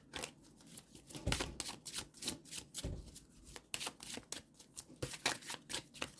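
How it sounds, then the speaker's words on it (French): An oracle card deck being shuffled and drawn, quick irregular papery riffles and flicks close by, quiet and without talk. "on va tirer une carte de l'oracle de la chamane que j'aime beaucoup."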